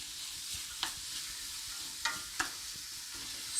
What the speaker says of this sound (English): So I'm just giving it a little stir here.